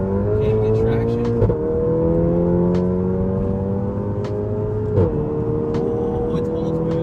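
A Volkswagen GTI with an upgraded turbo pulls hard at full boost, its engine note climbing steadily and loud from inside the car, with brief shift-like breaks between pulls while people talk over it.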